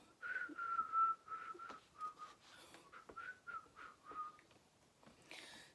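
Someone whistles a cheerful tune alone, a clear, thin melody of short phrases and pauses, soft and fairly close.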